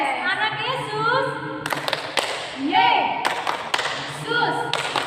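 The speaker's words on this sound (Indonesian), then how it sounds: "Tepuk sekolah minggu." Sunday school children at an HKBP Moria church service clap in a rhythmic chant pattern, sharp claps in short bursts mixed with sung and spoken voices.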